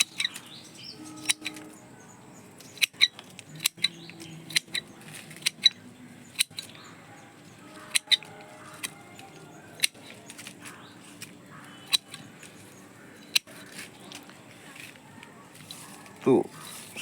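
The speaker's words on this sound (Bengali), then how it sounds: "তাই এই ডালটা আমরা এখান থেকে শেপ করার জন্য কাটাই ছাটাই করে দিচ্ছি।" Bougainvillea branches being pruned to shape, with repeated sharp snips of pruning shears spaced irregularly through the clip, fairly close and clear, while birds chirp faintly in the background.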